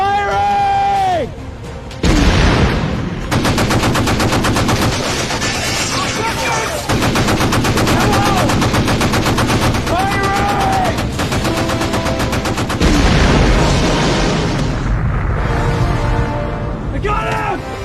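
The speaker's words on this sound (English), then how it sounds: "Fire at will! Prepare to fire. Firing!" A warship's guns fire in a wartime Atlantic convoy battle, with loud rapid automatic bursts blazing continuously for many seconds under shouting men and booming effects.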